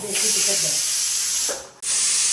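A kitchen pressure cooker hisses steadily as steam vents through its valve, a loud continuous rush that briefly dips and cuts out before surging back, with a voice talking faintly underneath at the start.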